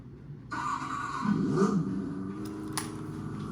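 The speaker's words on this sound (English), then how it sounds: "So this dual speaker exhaust gives off the sound of a gas" On an electric motorcycle, a dual-speaker exhaust kicks in abruptly and plays a synthetic gas-engine idle, swelling briefly into a rev before easing back to a steady electronic rumble, close and fairly loud.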